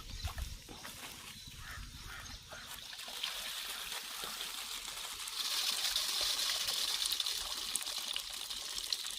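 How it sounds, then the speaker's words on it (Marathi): Water drains from rinsed basmati rice through a mesh strainer outdoors, a faint steady trickle and patter that grows slightly stronger partway through, with no speech. "सगळं पाणी निघून जातं, तांदूळ सांडत नाही त्याने"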